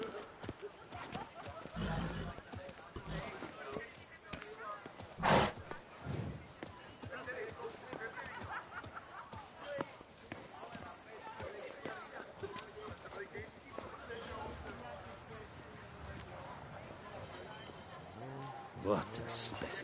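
Roach the horse from The Witcher 3 video game gallops, with rhythmic hoofbeats running steadily under a dense layer of game voices, music and background noise, plus a few louder thumps.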